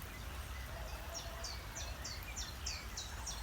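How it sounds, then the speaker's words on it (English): A chiffchaff repeats its quick two-note song steadily at moderate distance, each chirp faint above a constant rushing background of flowing water. "can hear that chiff chaff again really loud."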